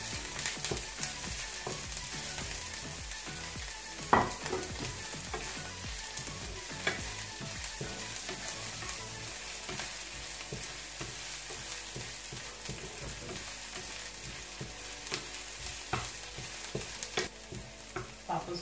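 Onions sizzle in a pan for eggplant with minced meat, a continuous frying hiss broken by repeated scrapes and knocks of stirring, close and moderately quiet.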